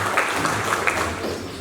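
Applause at an award ceremony in Santa Maria da Vitória, a dense crowd of clapping at moderate distance lasting under two seconds.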